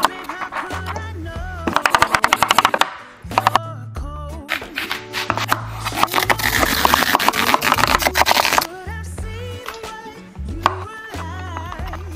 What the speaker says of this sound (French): C'est parti, on va découper les légumes.